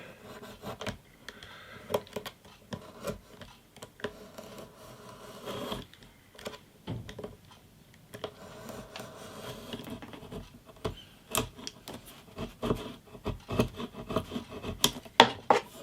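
A new blade cuts wood along a clamped ruler during a vintage steel-string guitar makeover, producing quiet, irregular scraping strokes and rasps close by, some bursts sharper than others.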